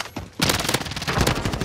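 Gunfire in Call of Duty: Warzone on Rebirth Island, with a dense burst of rapid shots lasting over a second after a brief quieter moment.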